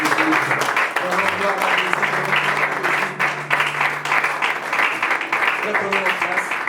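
A church congregation applauds together in sustained, dense clapping, with voices rising and calling out over the claps throughout.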